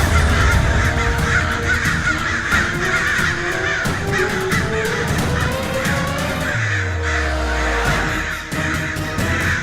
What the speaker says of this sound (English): so many crows!